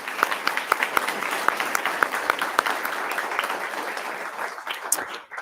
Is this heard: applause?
yes